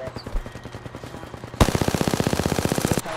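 Video game gunfire: scattered shots at first, then a rapid, loud automatic burst of evenly spaced rounds that runs for about a second and a half and stops abruptly.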